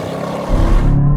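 A Chevrolet Corvette launching under launch control: the engine note swells sharply into a loud, rising roar over about a second, close and without talk.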